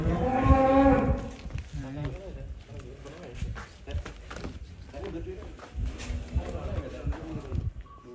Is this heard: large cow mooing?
yes